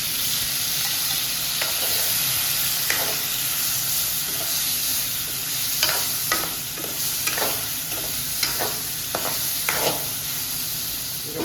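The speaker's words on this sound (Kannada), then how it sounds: "ಈಗ ಪನ್ನೀರ್ ಮೊದಲು ನಾನು ಇದರಲ್ಲಿ ಫ್ರೈ ಮಾಡ್ತಾಯಿದ್ದೀನಿ." Spiced paneer coated in turmeric and chilli powder fries in a pan with a steady close sizzle, and scattered scrapes and taps from stirring cut through the hiss.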